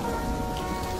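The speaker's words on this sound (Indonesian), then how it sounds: "Aduh, kok tiba-tiba hujan ya?" Sudden rain falls in a dense, steady patter on surfaces, close and continuous without any voices.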